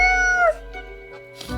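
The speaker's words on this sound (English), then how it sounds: "The cat meows." A cat in the video game Death and Taxes gives a single clear meow at the start, followed by quiet background sound.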